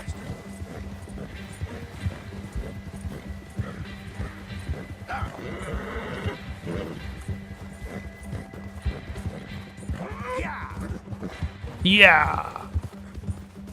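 Horse hooves clip-clop through the Red Dead Redemption 2 game world at a steady run, with one brief, sharp whinny rising near the end, all beneath continuous talk and a short shout.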